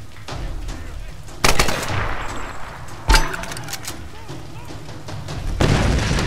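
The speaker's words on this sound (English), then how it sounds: "This grenade launcher is like really shitty." Grenade launcher shots in a Tomb Raider game, three heavy separated reports with booming tails over a steady background of game ambience.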